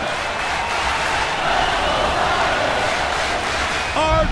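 Arena crowd noise in the UFC Undisputed 3 video game, a steady broad roar of a capacity audience with a short tonal cue near the end.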